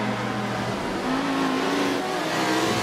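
Race car engine at Brands Hatch in Forza 7, passing a McLaren MP4 on Derek Minter Straight, a loud continuous close drone whose pitch climbs steadily under acceleration.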